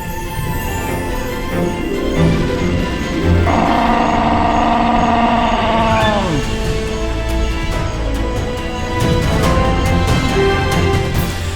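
A truck rumbles on in an animated children's story about dinosaur eggs, its engine a steady loud drone with a high hiss and falling whine midway, mixed under music.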